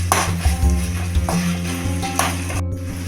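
Tomatoes sauté in a pan for chicken curry as a spatula scrapes and stirs in repeated strokes over a steady, low mechanical hum.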